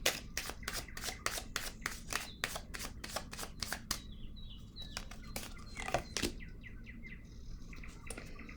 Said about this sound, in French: Je vais déposer une carte sur la patience.